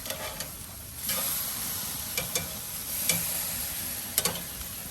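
A portobello mushroom sizzles steadily on a BBQ grill after being flipped, a soft constant frying hiss broken by a few sharp clicks and taps of the utensil, nearby and without voices.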